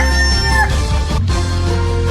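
Rooster crowing with chickens: a long, loud crow carries over a dense, steady farmyard din of clucking fowl throughout.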